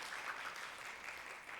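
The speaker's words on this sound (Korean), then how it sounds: "박수 한번 쳐주십시오" Church congregation applauding during a Sunday afternoon praise service, a faint, even patter of clapping held across the whole moment with no speech over it.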